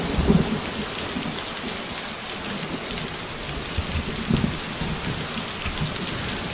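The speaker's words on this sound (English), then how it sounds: "When it is raining or thunderstorming, just like this." Steady rain pours outdoors near a lake with trees, a dense continuous hiss of drops, while low thunder rumbles softly in the distance; no voices.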